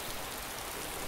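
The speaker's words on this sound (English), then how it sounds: "Crikey, it's raining." Steady rain falls in the video game DayZ, a continuous even hiss of drops without any voices over it.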